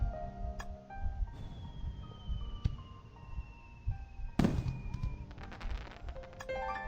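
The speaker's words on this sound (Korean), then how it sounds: "아름다운 폭죽이 밤하늘에 피었다." Fireworks burst in a summer night sky, with several sharp explosions spread over the clip and one loud, close blast near the middle, followed by crackling.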